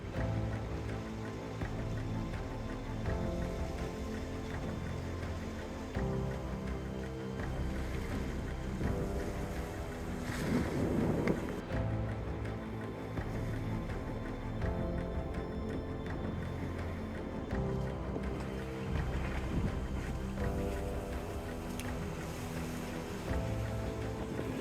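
A sailboat under sail rushing through open water, a steady loud wash of hull spray and waves with wind noise on the microphone, continuous and close for the whole stretch.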